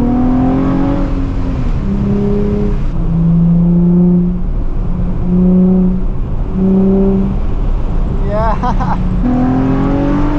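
A Nissan 350Z engine drones steadily through its gears, with rising and falling pitch sweeps as it revs and shifts near 6,000 RPM, loud and close inside the car, while a voice talks over it.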